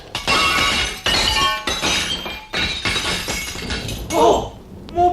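A Chinese vase shatters in a radio drama sound effect, giving several loud, bright crashes of breaking glass and porcelain in quick succession, with tinkling fragments and a final clink.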